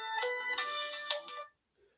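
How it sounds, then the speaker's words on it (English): A mobile phone ringtone plays nearby, a bright melodic electronic pattern of repeating tonal notes at moderate volume that stops after about a second and a half, leaving near silence. "excuse me, I forgot to shut my phone off."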